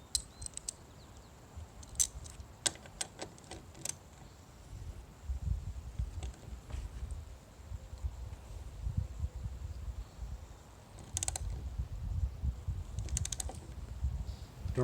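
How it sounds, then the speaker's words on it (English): Wrench working 12mm bolts off the roof of a 4th-gen Toyota 4Runner, quiet scattered metallic clicks and ratcheting ticks in short bursts over low background rumble and handling noise. "12mm to take these bolts off."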